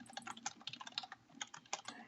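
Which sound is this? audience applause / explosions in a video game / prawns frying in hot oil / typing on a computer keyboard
typing on a computer keyboard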